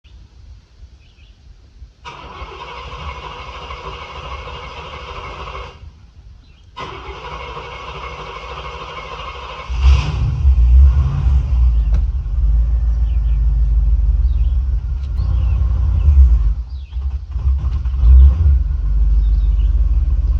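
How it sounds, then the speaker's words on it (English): A 1975 Cadillac Eldorado barn find cranks with a long whirring starter and settles into a loud, deep, rumbling idle up close, then keeps running heavily as it pulls out, with faint birdsong in the background. "I've purchased a 1975 Cadillac Eldorado. Let me pull it out for you."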